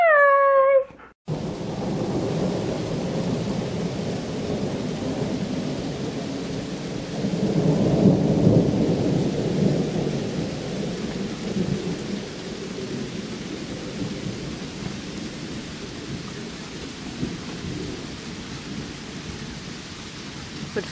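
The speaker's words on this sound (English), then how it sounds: "So enjoy the storm video." Heavy thunderstorm rain pours in a dense, continuous hiss while low thunder rolls and swells loudly around the middle; a short high tonal cry is heard at the very start, and no one speaks.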